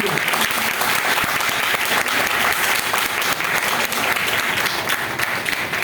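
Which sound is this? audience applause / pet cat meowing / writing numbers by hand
audience applause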